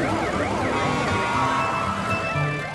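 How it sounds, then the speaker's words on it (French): A fire truck siren in a French children's cartoon, a loud wailing tone sweeping up and down without a break, with music or engine sound underneath. "Regarde, un camion de pompiers roule très vite."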